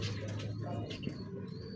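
A Ferozpuri pigeon gives soft, low throaty coos close by, steady and fairly quiet over a constant low hum.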